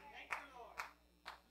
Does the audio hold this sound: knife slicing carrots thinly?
no